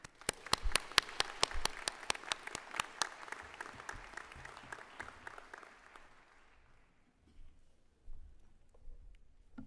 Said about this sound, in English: please join me in a round of applause in recognition of her accomplishment